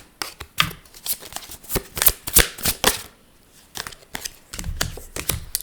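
A deck of numerology cards being shuffled by hand, with a run of quick riffling bursts and soft slaps, a brief pause, then more close, crisp card handling.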